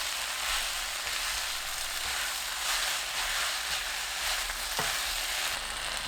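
Rice cake slices for tteokguk and saebal greens stir-fry in a pan over medium heat, producing a continuous even sizzle with an occasional soft stir or scrape.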